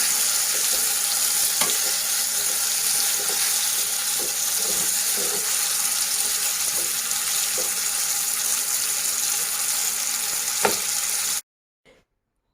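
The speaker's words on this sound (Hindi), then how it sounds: "अभी ये स्लोली फ्राई हो रहा है और इसका मैंने साइड भी चेंज कर लिया है।" Cheese falafel balls deep frying in oil, a dense, even sizzle that holds close and loud for about eleven seconds with a few faint knocks, then cuts off abruptly into near silence.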